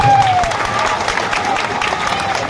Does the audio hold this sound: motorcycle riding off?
no